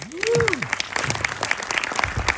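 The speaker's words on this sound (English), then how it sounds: "So please give them all a round of applause." An audience at a documentary screening intro in Toronto claps, scattered sharp individual claps over a low crowd murmur, beginning just as a brief vocal sound fades.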